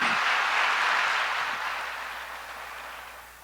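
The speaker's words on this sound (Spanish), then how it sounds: "Dale un aplauso al Señor." A church congregation applauds, dense broadband clapping from a crowd swelling briefly and then gradually fading over a few seconds.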